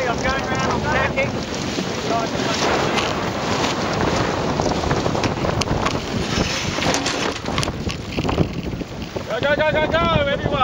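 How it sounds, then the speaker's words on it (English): Sailboat tacking in strong wind off Melbourne, Australia, with heavy wind buffeting and rushing water throughout, loud and close, and high whistling or voices briefly at the start and end. "Okay, I'm going around, I'm tacking."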